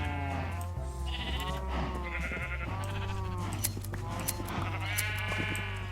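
Sheep bleat over and over in a video game, wavering cries coming one after another above a steady low drone.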